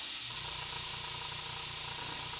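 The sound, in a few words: airbrush spraying paint, flicking off specks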